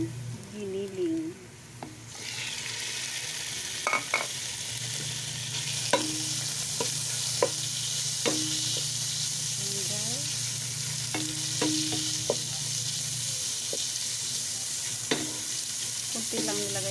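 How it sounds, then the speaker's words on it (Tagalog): Ground pork or beef hits a pan of browned garlic and onion with a little oil, giving a loud continuous sizzle punctuated by repeated scraping and clinking of a spatula, with a few brief murmurs of voice. "Ilalagay na natin ngayon ang ating giniling."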